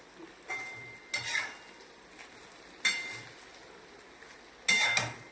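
Dudhi muthiya sizzle softly in a pan on low heat while a utensil stirs, giving a few scraping, clinking strokes over a quiet, steady hiss.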